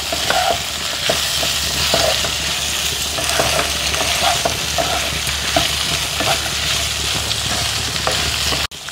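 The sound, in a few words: mixing chilli chicken in a pan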